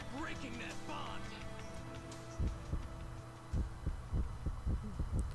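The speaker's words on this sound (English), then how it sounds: "Heartbeats, which is a good setup" A throbbing heartbeat effect from the Naruto: Ultimate Ninja 3 video game, with Sasuke transforming, thumps in slow, steady low pulses under a hum while players talk over the opening.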